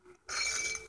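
Glass shatters in the physics video game Happy Wheels, a sudden bright burst of breaking glass that rings on for over half a second after a brief quiet lead-in.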